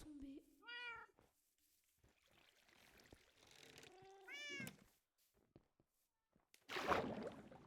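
Minecraft cats meow twice in the video game, a high, clear, rising call near the start and another a few seconds later, with quiet game noise between and a rough burst of noise near the end.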